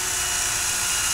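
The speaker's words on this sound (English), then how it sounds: "Then I'm just going to drill through this." Electric drill boring through gate hardware for a simple spring door closer, a steady high whine held for a moment, close and loud.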